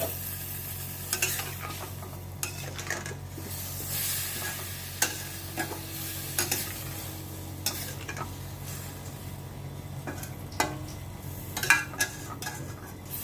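Chilli prawns fry in a pan after two spoons of cold water go in, a low sizzle running under frequent sharp scrapes and clinks of a metal spatula stirring against the pan, close and uneven.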